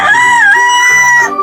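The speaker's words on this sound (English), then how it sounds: "The rooster wakes everyone up in the morning with his loud crow." A rooster on a farm lets out a single loud, close crow lasting about a second and a half, a bright harmonic call that rises, holds and trails off, with nothing else around it.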